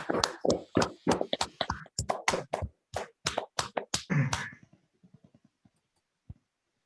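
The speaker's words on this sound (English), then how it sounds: "If I could all ask people to unmute and a round of applause for David." Scattered hand claps from an online audience applauding Professor David Southwood, a rapid run of sharp claps that thins out and trails off into a few isolated claps before silence.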